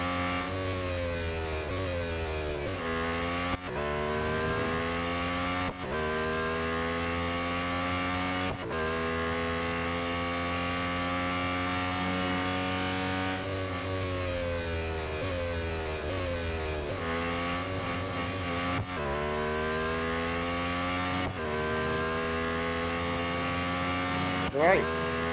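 A Lotus Emira GT4 race car engine in the Real Racing 3 mobile game roars continuously, climbing through the revs and dropping sharply at each gear shift, loud and close throughout the lap.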